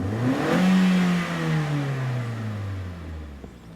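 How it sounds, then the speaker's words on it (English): The 1.8 engine of a 2011 Vauxhall Insignia with a performance fault revs at wide open throttle, rising sharply and then winding down as the pedal is released. Close and fairly loud, with no voices. "Accelerate the engine with the wide open throttle and release the pedal when fuel cut off occurs."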